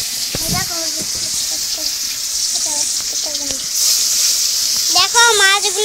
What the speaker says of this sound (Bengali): এটা এখন ভেজে নেব